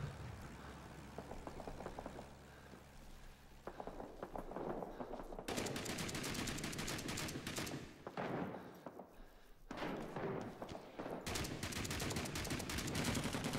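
Full-auto AK rifle bursts in Rising Storm 2: Vietnam, set in Hue City, rattling in long sustained strings with brief pauses between, loud and close with distant battle noise beneath.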